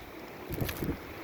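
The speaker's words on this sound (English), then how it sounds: "But the worst part is the wind. It's just awful." Strong winter storm wind buffeting outdoors near a chicken pen, a short rough gusting roar with a couple of heavier blasts hitting the microphone, no voices.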